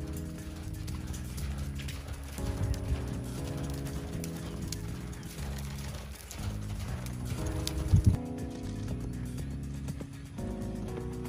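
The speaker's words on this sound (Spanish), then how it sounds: "Cómo galopar a un caballo de que bien relajado" A horse galloping in a relaxed way at a Quarter Horse reining ranch in Veracruz, hooves clip-clopping steadily under a busy outdoor background with birds chirping, no speech.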